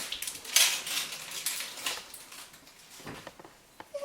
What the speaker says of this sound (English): You start off by cutting both ends of the onion off and then just peeling it like you normally would